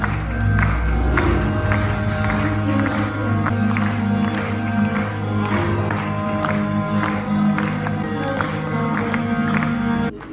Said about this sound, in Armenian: պարգևելով բուռն ու անդադար ծափահարություններ